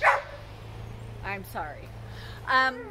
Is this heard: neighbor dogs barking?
yes